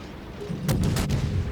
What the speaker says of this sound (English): I can start shooting their aircraft down the second they muster on the flight deck.